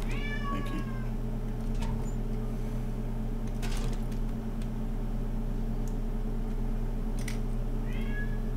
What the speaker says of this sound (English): Yes, I have a cat and he meows a lot.